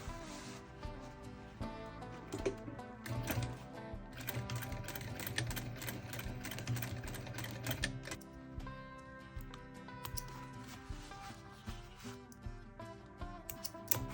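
A sewing machine runs steadily, stitching the hem of jeans, with a fast even mechanical ticking that continues throughout at moderate level, no voices.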